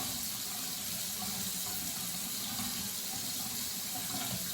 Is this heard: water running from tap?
yes